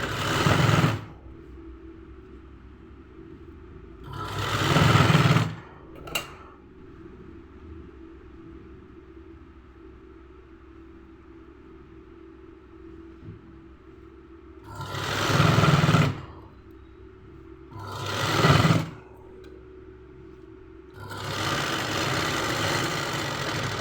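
A sewing machine stitching fabric thread piping runs in several loud, close bursts of a few seconds each, separated by quieter pauses with a faint hum.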